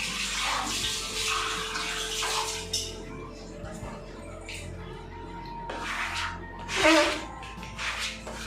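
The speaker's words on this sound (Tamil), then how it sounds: "நான் எப்போ கவுண்டர் டாப் க்ளீன் பண்ணாலுமே அந்த தண்ணி ஃபுல்லாக அதில் சிந்திரும்" Water runs steadily from a tap while a kitchen countertop is being cleaned, a continuous close splash with a brief louder gush near the end.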